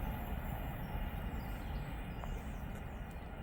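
A Class 390 passenger train running from London Euston passes through Berkhamsted station, a steady loud rumble of wheels and traction filling the whole span without pause, with no voices.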